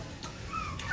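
Short clucking calls from chickens sound nearby over a low, steady background murmur.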